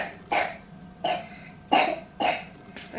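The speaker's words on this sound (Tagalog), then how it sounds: "Ayan o yung ubo niya." A sick girl coughs in five separate, evenly spaced bursts, fairly close and moderately loud, with a quiet room behind her and no talking.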